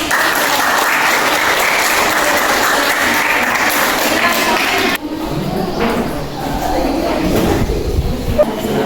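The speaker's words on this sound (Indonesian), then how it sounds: "Oke, kita kasih tepuk tangan." Classroom applause during a lesson on the human respiratory system: dense, steady clapping from a group of students fills the first five seconds, then shifts to a livelier mix of scattered claps, chatter and voices.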